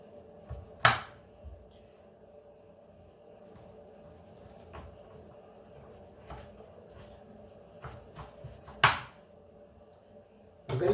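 A knife chops bitter gourd (karela) on a board in a quiet kitchen: a few sparse, sharp cuts, two of them louder, with a low hum in the background.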